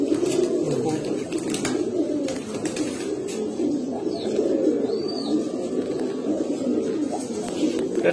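A pair of old-line silver Bagha pigeons coos in a low, rolling, continuous murmur close by, with a few brief soft chirps and no clear talk over it.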